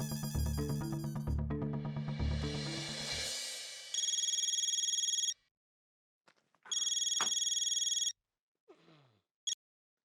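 Telephone ringing in a scene from the Hindi TV comedy Taarak Mehta Ka Ooltah Chashmah: a musical tone sequence, then loud electronic rings in two long bursts with gaps, ending in a short final chirp.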